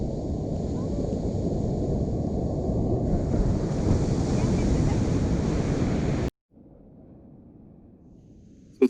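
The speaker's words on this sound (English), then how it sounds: "I have a bunch of clips both from the storm last night with the wind, and also some stuff from the waves this morning" Ocean surf and gusting wind at Carolina Beach after Hurricane Sally: a loud, steady roar of breaking waves buffeted by wind noise on the microphone for about six seconds, then an abrupt cut to a quieter, muffled background.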